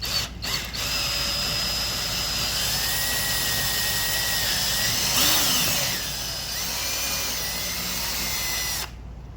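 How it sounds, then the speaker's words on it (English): A power drill boring straight through plywood during a generator slide-out tray installation on a mobile detailing trailer, whining continuously at close range with pitch shifts as the bit loads and frees, then stopping abruptly. "I'm going to drill all the way through the plywood, just keeping it as straight as possible"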